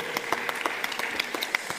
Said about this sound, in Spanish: por favor, un fuerte aplauso para Florindo Fierro